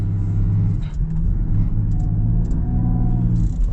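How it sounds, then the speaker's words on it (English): A 2025 Land Rover Defender 110 D350 diesel engine at full throttle while its wheels spin, a deep steady rumbling drone that rises slightly in pitch, heard from inside the cabin with no talk. "It's about half throttle. That's full throttle."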